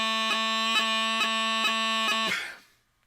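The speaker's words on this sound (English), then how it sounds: "What we're actually looking for is a sort of chirping sound." High bagpipe chanter tone sustained over a low drone, broken by five quick evenly spaced high G grace-note chirps, steady and close, then cutting off and fading to silence.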